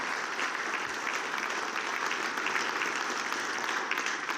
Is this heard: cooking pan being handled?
no